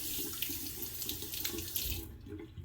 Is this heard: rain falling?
no